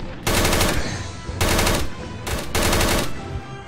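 Sustained bursts of automatic gunfire from the video game Fallout, three loud rapid-fire volleys separated by brief pauses, with no talking.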